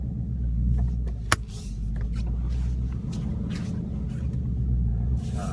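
A 2015-18 Ford Mustang fitted with a Corsa Sport exhaust cruising on a base road, a steady low exhaust drone and cabin rumble throughout, with one brief click inside the car.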